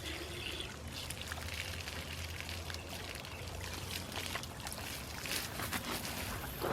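A garden hose rinses water over a cleaned animal skull outdoors, a steady splashing pour that continues throughout at moderate, even loudness with no talking.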